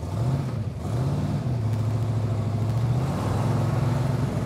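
A 1959 Ol' Yaller Mark III race car's engine runs loud and close, a deep steady rumble that dips briefly and settles into a sustained drone.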